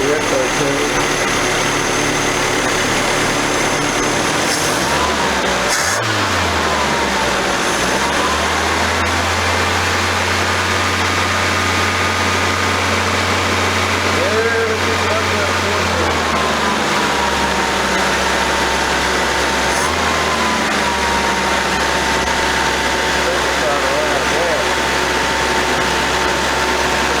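Engine of an abandoned 1982 Nissan 720 King Cab pickup running with a steady low drone that rises and settles in the middle, with a voice talking over it.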